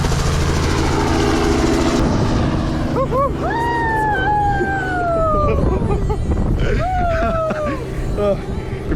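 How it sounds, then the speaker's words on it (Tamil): A helicopter lifts off close by, its rotor and turbine roaring steadily while a siren-like whine rises and falls over it, with people talking underneath. "அதான் ஹெலிகாப்டர் கிளம்பிடுச்சு."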